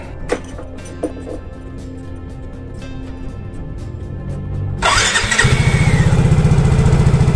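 A Yamaha Mio J scooter motorcycle, just back from a tune-up and valve adjustment, is cranked with a few short clicks and whirs, then catches near the end and settles into a steady, close idle.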